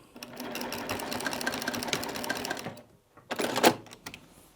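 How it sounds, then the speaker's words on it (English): A sewing machine stitches a short run of quilting fabric to anchor a corner, a steady rapid mechanical chatter for nearly three seconds, then a pause and a brief second burst of stitching. "I'm just going to sew a little bit of it just to anchor my corner."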